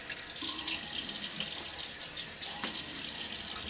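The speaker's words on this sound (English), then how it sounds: "so let me throw the water on my face" A bathroom sink tap runs with cold water that is splashed onto a face before a shave, giving a steady close rush of flowing water with small splashes.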